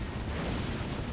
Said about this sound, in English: Huge explosions from this dude.